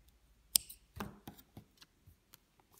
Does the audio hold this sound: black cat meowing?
no